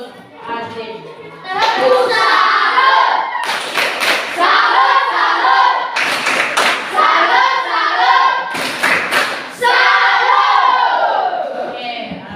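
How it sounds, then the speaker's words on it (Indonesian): A classroom of children claps and cheers loudly in bursts after a pupil's presentation, with sharp hand-clap transients and shouting voices across a crowded room, ending as a teacher begins speaking. "Baik, tepuk salut untuk Azim."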